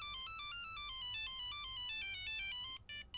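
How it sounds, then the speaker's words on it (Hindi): A melodic electronic phone ringtone plays on loop, a bright repeating tone pattern close and clear, cutting off near the end. "इतनी देर से फोन बज रहा है, तुम उठा क्यों नहीं रही हो?"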